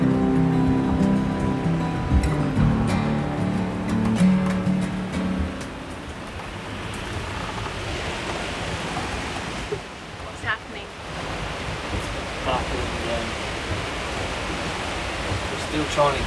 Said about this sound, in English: It is actually bucketing down, hey?